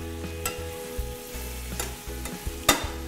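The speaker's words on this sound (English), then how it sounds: "So as this simmers, our veal simmers" Veal simmering in Marsala sauce in a pan and being turned, a soft steady bubbling broken by a few light scrapes and clicks of a utensil, with no talking.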